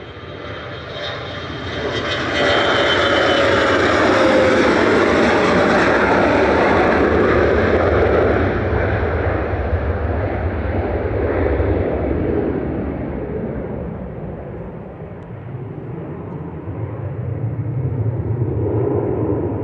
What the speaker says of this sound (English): Gulfstream G550 departing there